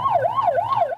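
A police car siren wails in a chasing pursuit through narrow alleys, its tone rising and falling in steady cycles, loud and close throughout.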